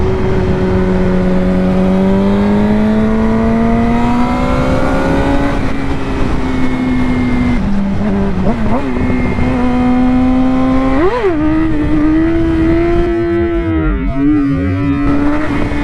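A Yamaha R6 sport bike revs hard and climbs through gears during wheelie practice, its loud engine note rising and dropping at each shift, steady and close throughout.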